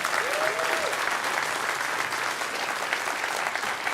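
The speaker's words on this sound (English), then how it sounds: "Please give him a round of applause." Audience applause filling an indoor venue, steady continuous clapping from a crowd throughout, fairly close and even in loudness.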